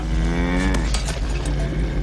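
In the film Flight of the Navigator, a cow lets out a loud, drawn-out moo over a steady low rumble, with a few faint clicks near the end.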